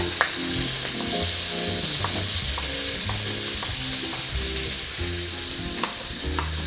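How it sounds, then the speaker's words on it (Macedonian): Loud, continuous sizzling and crackling of bacon frying in a hot pan, with occasional scraping of a utensil stirring through the fat. "Ја пржиме додека не го пушти својот сок."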